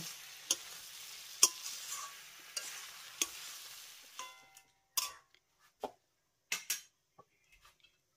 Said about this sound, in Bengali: লো ফ্লেমে এবার আলু আর সয়াবিনটাকে মশলার সঙ্গে ভালো করে মিশিয়ে নেব।